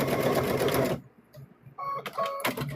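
A sewing machine runs in a brief rapid burst while stitching a stuffed bear, then stops; a few clicks and mechanical taps follow close by.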